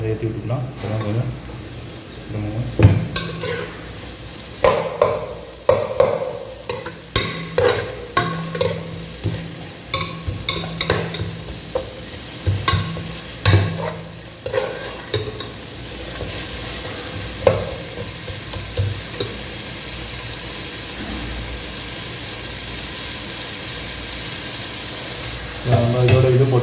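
Mutton pieces for a bottle-gourd mutton gravy frying in a pan, with repeated scraping stirs over a steady close sizzle; a voice talks intermittently over the cooking.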